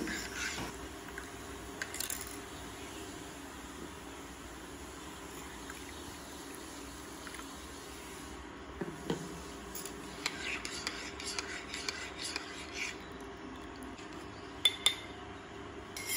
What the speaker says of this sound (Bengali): তো তার জন্যই আমি একটু ঠান্ডা জল দিয়ে কমপ্ল্যানটা গুলে দিচ্ছি